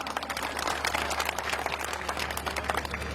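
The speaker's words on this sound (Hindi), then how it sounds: "तालियां बजाएं एक बार जोरदार।" A crowd at an outdoor political rally in Osian, Jodhpur, clapping together in sustained, moderately loud applause, an even wash of many hands from a large gathering.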